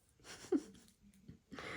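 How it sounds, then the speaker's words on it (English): Faint, breathy snoring from a dog, a couple of soft rasping breaths with quiet gaps between, in an otherwise still room. "I do apologise if you can hear the dog snoring"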